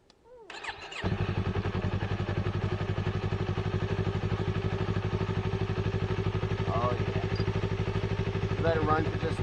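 A 2015 Yamaha R3 motorcycle engine cranks and catches, then settles into a steady, close idle with dense regular pulses that hold for the rest of the clip.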